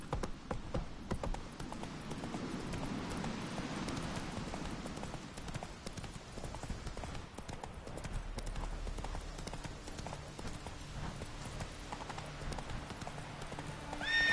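Horse hooves trot in a steady clip-clop rhythm in The Witcher 3, with an occasional whinny, a continuous mid-distance beat running the whole stretch.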